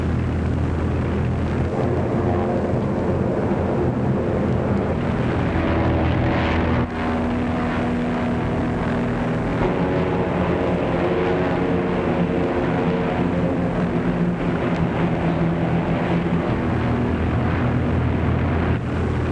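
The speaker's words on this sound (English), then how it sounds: "More Navy planes?" Navy propeller planes fly overhead with a loud, steady, continuous engine drone that holds for the whole stretch without a break.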